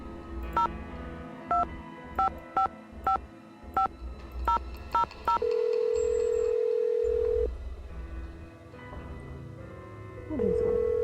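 Touch-tone telephone dialing in a Nancy Drew mystery video game: a rapid series of about a dozen short keypad beeps, followed by a steady ringback tone that stops and briefly returns, with faint background ambience.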